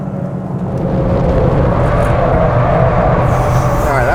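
A Toyota GR Corolla hot hatch engine roars loud and steady as the car slides sideways, a continuous close rumbling drone with wind noise layered over it.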